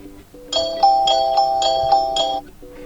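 A Huawei Nova 11i alarm ringtone plays a bright electronic melody of repeated chiming notes in a steady rhythm for about two seconds, clear and alone, then fades to a short softer phrase.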